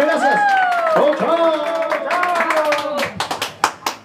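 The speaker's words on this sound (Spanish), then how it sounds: "Un aplauso bien bonito" At a birthday celebration with a youth mariachi band, a sustained voice or note rings over mixed crowd noise before a few sharp, separate hand claps close the clip near at hand.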